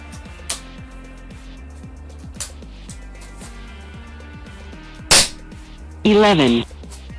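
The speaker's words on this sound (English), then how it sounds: "I'm going to do another 10 shots." A rifle, bought from the Turkish maker Retay, cracks once loudly and sharply at target practice, with a couple of fainter pops before it and a burst of other noise afterward, over a low steady background hum.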